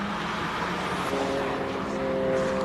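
A Volkswagen Golf race car on a hill climb course, its engine note droning at a moderate distance under a faint voice, steady with a slight rise in pitch.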